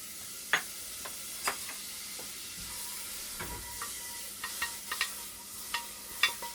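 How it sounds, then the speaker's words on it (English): Butter melting and sizzling in a hot heavy-bottomed pot while making seafood bisque, a faint steady frying hiss broken by scattered soft pops and stirring clicks, quiet and without talk. "I'm going to lower the heat and add the butter"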